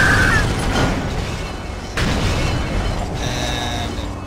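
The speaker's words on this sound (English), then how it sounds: "There's gonna be an explosion." Explosion in Star Wars Jedi Knight: Jedi Academy, a heavy low booming blast that rumbles on, with a second surge of rumble partway through, loud and close under game mechanism noises.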